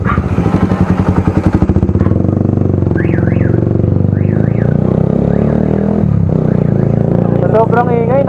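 Car alarm wailing in repeated rising-falling bursts over the loud, continuous rumble of a nearby motorcycle engine, with people talking over the noise.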